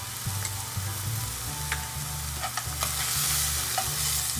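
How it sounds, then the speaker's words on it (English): Salted onions frying in a pan for samosa chaat give a steady close sizzle, broken by scattered clicks and scrapes of stirring, with a low hum running underneath. "Let's add a little bit of salt now and fry until they turn golden brown."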